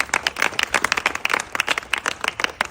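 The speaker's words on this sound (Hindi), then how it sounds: "मैम के लिए चाहूँगा एक बार जोरदार तालियां सब लोग बजा दें" Audience clapping warmly to welcome guest Kalpana Pal, a dense, steady round of applause from a crowd with no talk over it.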